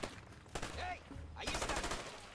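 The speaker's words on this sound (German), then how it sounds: "Jetzt wird geschossen." Gunfire in the video game A Way Out: bursts of shots crackle and rattle across the scene, with a brief lull before a dense volley picks up again, moderately loud.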